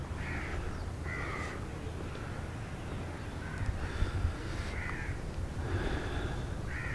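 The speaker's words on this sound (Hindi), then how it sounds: "परिंदों का शोर।" Crows cawing around Rawal Lake, with repeated harsh caws at a moderate distance spread across the clip over a steady low outdoor rumble and background bird chatter.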